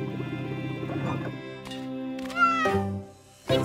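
A cartoon kitten meows in short plaintive cries, three or four close, clear mews over soft background music.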